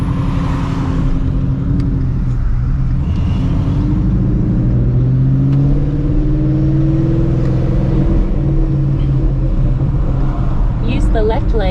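Supercharged Shelby GT350 on new wheels and tires pulling out into traffic, a steady low engine drone with rising whine as it accelerates, heard from inside the car with someone talking over it.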